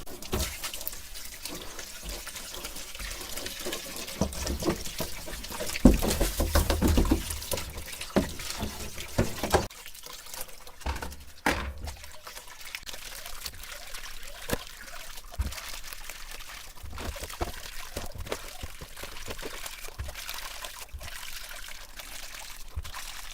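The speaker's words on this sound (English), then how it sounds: "Wash it out with ordinary water." Ordinary water being poured and splashed while rinsing processed African snails, a close, continuous run of trickling and sloshing with occasional louder splashes and clunks.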